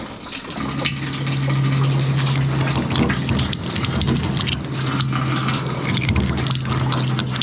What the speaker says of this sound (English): I'm going to have to turn the water back off and take the spigot off